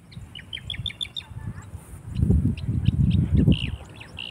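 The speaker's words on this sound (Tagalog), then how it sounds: "pakinggan natin yung mga huni ng ibon." Small birds chirp in quick repeated high notes on a farm, with a few more calls later over a low rumbling background.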